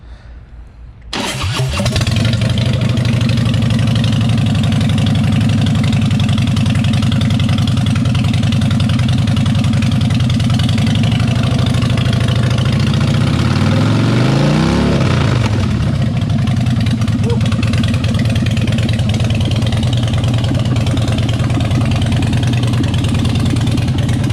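A 2013 Harley-Davidson Fat Boy Lo cranks and fires, then runs at a loud, close, rumbling idle, with one rising-and-falling throttle rev midway before returning to a steady idle.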